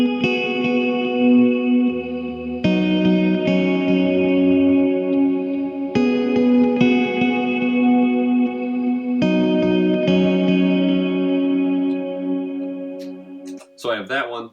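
Electric guitar notes ring out through an eighth-note delay at 74 BPM from a Strymon TimeLine, each chord repeating in quick, even echoes that blend into a sustained wash, ending with a brief noisy burst.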